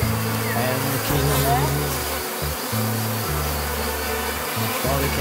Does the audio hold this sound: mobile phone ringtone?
no